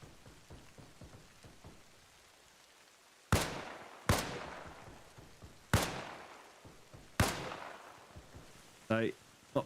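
Four loud, unsuppressed rifle shots in Arma Reforger ring out at uneven intervals, each with a sharp crack and a long fading echo across a field, over faint background noise.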